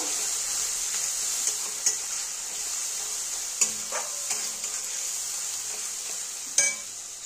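Fish curry masala of onion, cumin and ginger paste sautéing in a pan, a constant bright sizzle broken by occasional spoon scrapes and light clinks against the pan.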